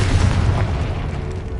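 A Confringo blasting spell exploding in Hogwarts Legacy, a loud, close, continuous booming roar that rumbles heavily throughout and fades slightly at the end.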